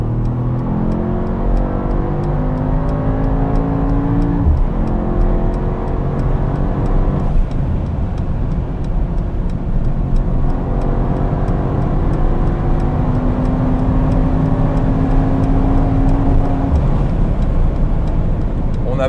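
Brabus Rocket 1000 at high speed, well over 260 km/h, with a loud steady engine and road roar that holds throughout and rising whining tones that climb as it accelerates.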